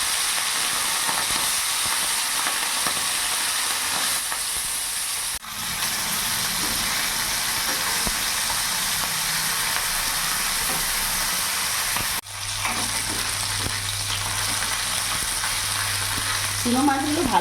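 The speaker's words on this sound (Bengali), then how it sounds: "তেল গরম হয়ে গেছে, এবার মাছগুলো দিয়ে দেব।" Small whole fish sizzling in hot mustard oil in a pan, a steady, loud hiss that runs throughout with two brief shifts in intensity and a low hum underneath toward the end.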